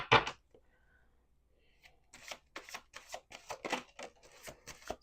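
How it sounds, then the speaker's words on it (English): Tarot cards being shuffled by hand in a quiet room, a quick riffle at the start followed after a pause by a long run of close, crisp flutters and slaps, each burst sharp and papery. "We're going to do 2 more shuffles."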